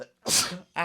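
A single sharp sneeze at close range, a quick breathy burst, followed right away by a brief spoken exclamation.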